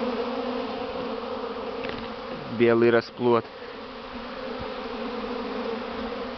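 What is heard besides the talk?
honeybees flying out of hive in spring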